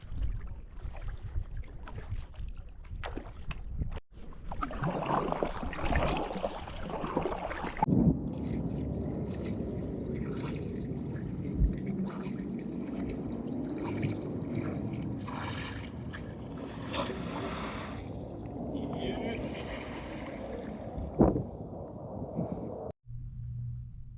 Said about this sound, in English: paddling alongside the smooth granite cliffs, places you can never reach without a kayak.